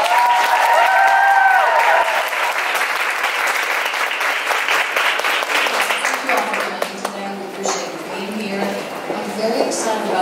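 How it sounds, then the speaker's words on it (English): Audience applause at a pageant event, a dense wash of clapping sustained throughout with voices and crowd noise mixed in, close and loud. "a huge round of applause for Miss Sherri."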